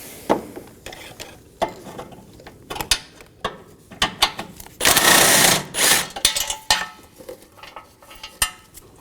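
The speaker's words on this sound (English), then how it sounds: "Now remove your top bolts." A ratchet backs out the top bolts of a front bumper bracket on a Toyota Corolla, with scattered close clicks and short bursts of ratcheting, plus one louder rattling stretch partway through, and no voices.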